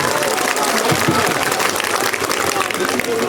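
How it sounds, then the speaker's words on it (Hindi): Crowd clapping at a Jan Suraaj Party political rally in Parsa, Bihar, a dense steady wash of applause from a large audience with voices mixed in. "अब बजा लीजिए ताली"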